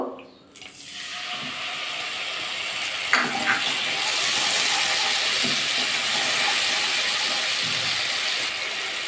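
Spice paste mixed with water, for a bottle gourd and egg dish, poured into a hot pan over cumin tempering, setting off a sustained steamy hiss and sizzle with a few clinks of a utensil, close and fairly loud.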